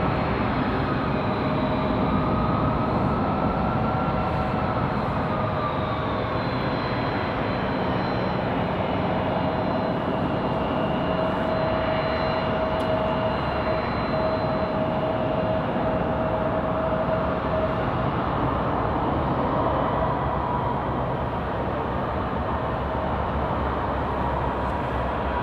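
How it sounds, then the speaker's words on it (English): A UPS Airbus A300 jet departing at night, a steady broad engine roar with a rising whine, heard from a distance and holding level throughout. "enjoy the A300 departure back to Louisville"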